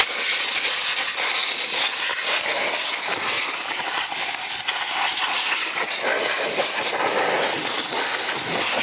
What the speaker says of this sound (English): We're just kind of blowing the debris that's left in there back and forth.